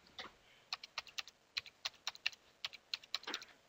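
Computer keyboard being typed on while entering an IP address, a run of crisp, close, irregular keystroke clicks in quick succession, quiet and with no voices.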